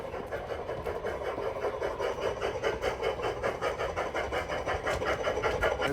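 A G gauge model train chugs along with a steady rhythmic mechanical pulse and a faint metallic whir, moderately close.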